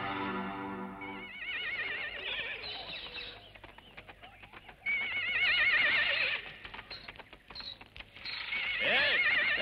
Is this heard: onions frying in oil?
no